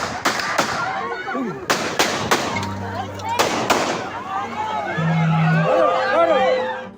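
A rapid series of sharp, loud gunshots, about eight bangs in quick bursts, fired at a political rally of about 250 supporters in Colombia, followed by a crowd shouting and a confused commotion.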